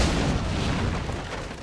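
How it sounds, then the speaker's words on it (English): A loud, close explosion in the video game Assassin's Creed 3 gives a broad rumbling blast that decays over under two seconds, with no talk. "I don't know where an explosion appears in the middle of the ground."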